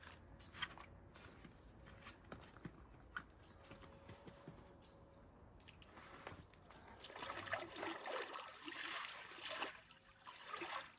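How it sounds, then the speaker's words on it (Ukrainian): Water splashes and trickles as a person lowers into a cold outdoor pool, soft dribbling early then a louder, broader splashing and swirling burst in the last few seconds, no talking. "Погнали занурюватися"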